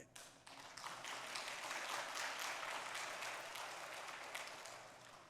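A church congregation clapping during a Sunday sermon, a burst of many hands applauding fairly softly in a reverberant hall, continuing for several seconds before thinning out.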